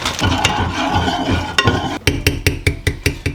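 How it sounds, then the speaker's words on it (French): A spoon stirring sugar into Turkish coffee: a busy rattling swirl, then a run of evenly spaced, sharp clinks against the pot or cup, close and clear with no voices. "on mélange"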